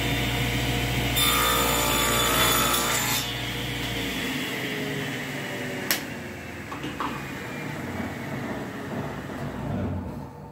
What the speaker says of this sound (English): I've lowered my saw blade to cut off just this much